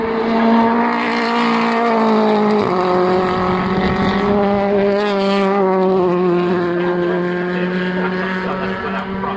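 British Touring Cars racing at Oulton Park, including a BMW, roar past a grandstand with loud, sustained engine drones that shift pitch as cars accelerate and change gear, several engines overlapping close by, no talk.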